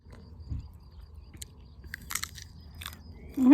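A few crisp bites and crunchy chewing on a small sour apple, close and quiet, with soft mouth sounds between bites.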